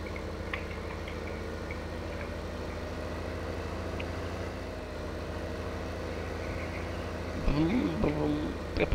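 Tractor engine idling at a low steady rumble in the farming video game Farming Simulator 2015, continuous and moderately loud, with a short burst of a voice near the end.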